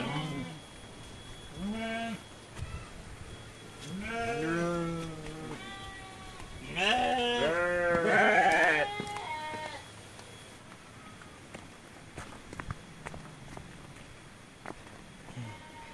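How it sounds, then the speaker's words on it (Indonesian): Sheep in a village sheep pen bleat repeatedly in short wavering calls, several overlapping, close by, over faint outdoor background noise with no talk. "Ini ada kandang domba teman-teman."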